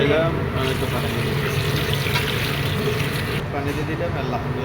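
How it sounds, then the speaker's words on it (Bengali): Water is poured into a cooking pot of meat for a marguga stew, making a brief, steady splashing flow as a voice talks over it. "আমি একটু পানি দিয়ে"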